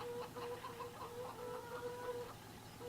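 Hens cluck in the Farming Simulator 17 video game, a few soft, repeated clucks over a faint steady background tone, fairly quiet and without talk.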